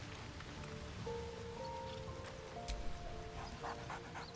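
A dog in the video game Baldur's Gate 3 pants and snuffles softly, faint beneath steady ambient game music and a rustling wilderness background.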